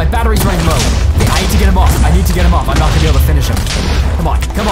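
A rapid, continuous barrage of explosions from a boss in a hardcore Minecraft game, dense and loud throughout, with a player talking over it.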